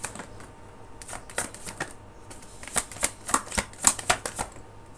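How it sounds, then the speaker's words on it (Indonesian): A deck of tarot cards is shuffled close up. Crisp, irregular snaps and ticks of the cards grow denser and louder toward the end over a quiet background. "Ini aku akan shuffle lagi."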